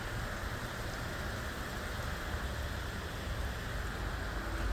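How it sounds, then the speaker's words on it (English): Steady, dense rain hisses continuously, close and fairly loud, with no voices or breaks. "It's clearly raining"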